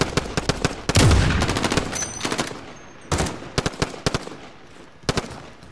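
Gunfire in Warzone: scattered sharp shots and short automatic bursts, loud and near, with a heavier blast early on and quiet gaps between volleys.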